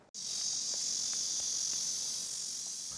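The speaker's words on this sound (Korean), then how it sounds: "매미도 뜨겁게 우는 여름날이라" Cicadas sing in a continuous, loud, shrill drone on a hot summer day in an old town quarter, steady and alone throughout.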